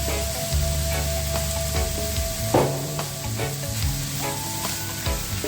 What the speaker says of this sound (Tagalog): Haluin lang natin mabuti ng mag-mix ang mga ingredients.